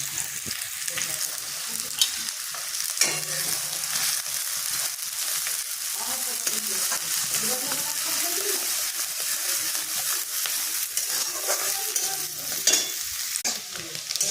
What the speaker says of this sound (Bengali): মশলাটা ভাজা হয়ে গেছে